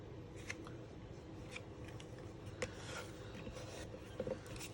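Bone folder burnishing designer series paper on a card-making project, soft close scraping and rubbing strokes in short irregular passes with a few sharper scuffs, quiet throughout.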